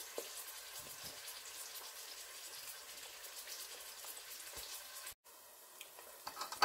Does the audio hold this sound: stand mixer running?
no